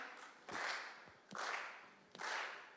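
A church congregation claps together in a slow, steady beat, three broad claps spaced under a second apart, faint and roomy.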